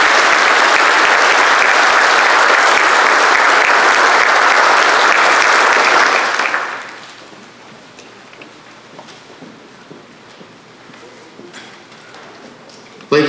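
A loud, dense round of audience applause at an evening graduation ceremony fills the hall for about six seconds, then fades quickly into quiet room murmur with faint scattered sounds.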